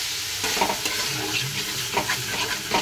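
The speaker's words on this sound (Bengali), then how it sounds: "জল দিয়ে একটু কষিয়ে নেব তেলটা ছাড়া পর্যন্ত।" Spiced potatoes fry in oil with ground coriander, cumin, dried chilli, turmeric, salt and Kashmiri chilli powder, giving a close, steady sizzle broken by repeated scraping strokes of stirring, with no talking.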